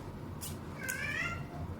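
A house cat meows twice, a short call followed by a longer rising-falling meow, fairly close over a low steady room hum with no talking.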